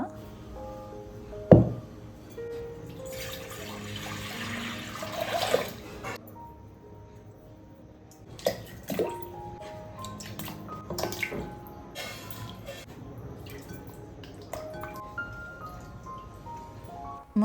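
Paneer pieces are washed in salt water and drained in a home kitchen, with a few sharp drips, a stretch of splashing and pouring, and scattered clinks and trickles at close range.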